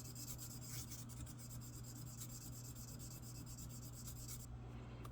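Rolled sandpaper rubs against a metal lockpick from a SWICK Jacknife tool, a faint, continuous close rasping friction over a low steady hum, with no talking.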